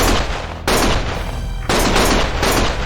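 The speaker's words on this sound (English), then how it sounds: "Stop shooting!" Dense, loud automatic gunfire roars without letup in the video game Lost Judgment, with a few heavier bursts standing out in the continuous barrage and no voices over it.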